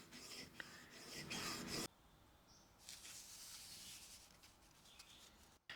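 Thumbs dragging across a diamond sharpening stone while a marking knife is worked, a faint close rasping rub that is heavier at first, then a quieter scratchy friction.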